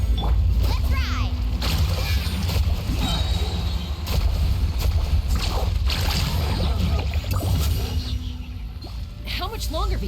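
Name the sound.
surfing on waves in video game Genshin Impact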